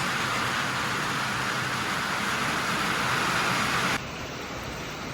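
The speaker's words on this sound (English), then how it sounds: "Sorry about the noise, it's raining hard." Steady, dense broadband roar of heavy rain pouring down, continuous and loud, easing slightly toward the end.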